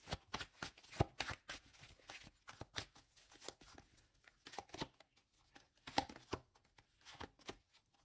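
Tarot cards handled and shuffled close up, a quiet continuous patter of riffling, flicking and tapping with occasional sharper snaps as cards are laid down.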